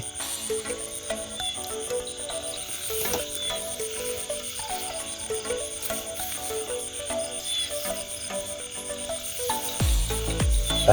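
Frogs croak all night long in a rice field on open upland paddy, a dense, steady chorus of repeated calls layered with insect trilling, loud and continuous, with a burst of low handling noise close by near the end.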